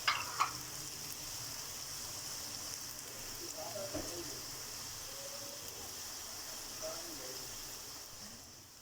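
Onion and fresh garlic paste frying in a pan, a soft, steady sizzling hiss kept low and even, with a voice speaking faintly at moments.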